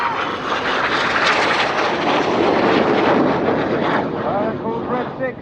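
A military jet engine roars loud and continuous as the aircraft pulls a hard turn at the Yeovilton Air Day display, with a commentator talking over it throughout.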